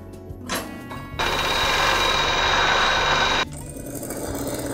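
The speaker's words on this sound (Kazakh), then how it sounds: "ішкі жағын аверлок машинкада торлап тігіп аламыз" An overlock sewing machine stitching the inner seams of a dress, buzzing loudly in one continuous burst of a couple of seconds between quieter handling noises.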